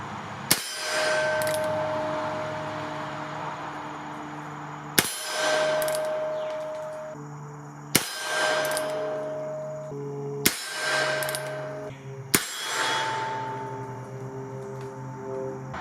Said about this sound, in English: Let's shoot 5 more rounds, see where we end up here.